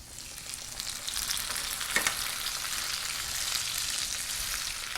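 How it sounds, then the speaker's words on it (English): Beans sautéing with garlic in a skillet, a close, steady frying sizzle with light crackle that swells slightly as they go in, with a brief clatter partway through and no speech. "while that's sauteing in there, you can smell the garlic already, I'm going to put the beans into the skillet."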